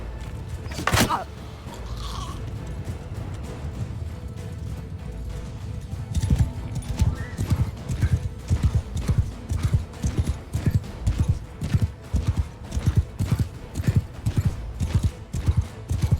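Horse hooves clip-clop in a quick, steady galloping rhythm that grows louder partway through, with a thump near the start and no talking, in the video game Mount and Blade II: Bannerlord.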